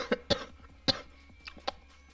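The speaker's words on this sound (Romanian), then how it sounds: "Măsa de tuse." Several short coughs in a DayZ Standalone game session, four or five separate bursts spaced unevenly, fairly close and moderately loud with no talking over them.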